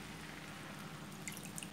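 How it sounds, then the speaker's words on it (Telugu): Water poured into a cooking pot while preparing jaggery kudumulu for Vinayaka Chavithi; a faint, soft trickle and light dripping in a quiet kitchen. "ఇప్పుడు ఇందులో వేసుకుందాము వాటర్"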